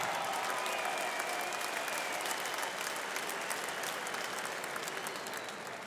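An audience at a Czech combat sports event applauds after a fight result, a dense, steady wash of clapping from a large crowd that fades slightly toward the end.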